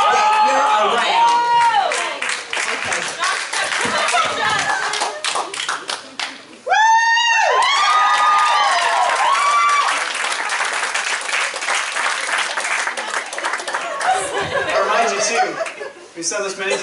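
A church congregation claps and cheers with scattered whoops and shouts, loud and sustained, dipping briefly before surging again, with chatter mixed in.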